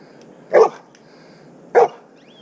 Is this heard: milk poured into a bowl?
no